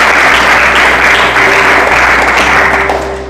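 Loud, dense clapping from a church congregation giving praise, steady and close for a few seconds before easing slightly at the end, with a low hum underneath.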